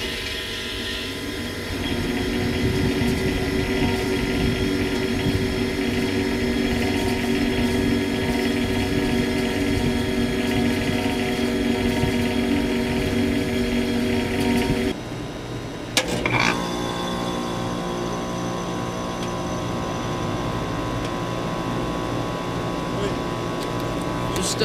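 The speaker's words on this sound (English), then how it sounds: "So, this Goodwin just started up." A Goodman air conditioning unit starts up with a broad, loud whooshing hum of fan and compressor that holds steady, then drops after a brief clunk to a quieter, lower running drone.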